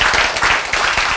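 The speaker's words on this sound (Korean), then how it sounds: "박수" Brief burst of congregational applause during a Korean sermon, a close, dense patter of clapping that runs unbroken through the short clip.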